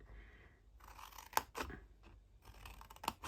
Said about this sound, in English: And again on the long side we're just cutting up that score line and removing.